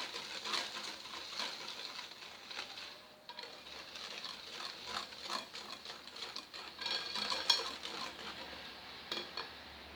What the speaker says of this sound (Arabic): نزيد هنا السميده الرقيقه